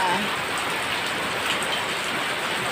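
Steady heavy rainfall, a dense, continuous hiss of drops pattering on surfaces, fairly close and unbroken throughout.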